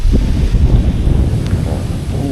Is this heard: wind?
yes